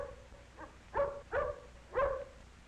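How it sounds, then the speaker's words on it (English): A small friendly dog gives three short barks about half a second apart, close and moderately loud, with faint yips before them. "Tippy is a friendly dog."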